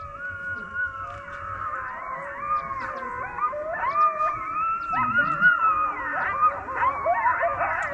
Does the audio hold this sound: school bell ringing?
no